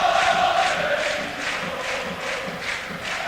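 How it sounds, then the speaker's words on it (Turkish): Football stadium crowd at a Champions League match chanting rhythmically for Beşiktaş, a loud massed roar with pulsing chant beats running steadily throughout, no commentary over it. "Tribünlerde muhteşem bir tezahürat Beşiktaş'a."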